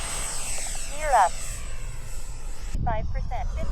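An airplane engine flying over an airfield, a droning hum that swells briefly and then fades, with chirping electronic tones and people talking.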